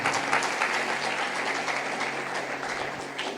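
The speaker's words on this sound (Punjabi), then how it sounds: "ਤਾਲੀ ਮਾਰੀਏ ਜ਼ੋਰ ਦੀ" Audience clapping steadily at a sermon, a dense, even patter of many hands held at a fairly constant level throughout.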